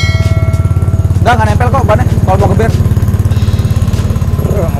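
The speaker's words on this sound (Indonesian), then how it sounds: "ini suara knalpot" A Primavera scooter engine chugs with a steady throbbing exhaust note close by while people talk over it.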